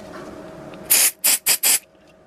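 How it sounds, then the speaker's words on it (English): Freezer spray hisses onto an Atari STE circuit board in four short, loud bursts, the first longest and the rest quick in succession, over a faint steady electrical hum. "put some freezer spray on there"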